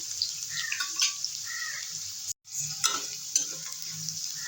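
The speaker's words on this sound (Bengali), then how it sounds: "দুটো ভাজা গেছে খুব বেশি লাল করে ভাজবো না" Small potatoes fry in a pan with a steady close sizzle, broken by a few light scrapes of stirring and a brief cut of silence partway through, with no voices.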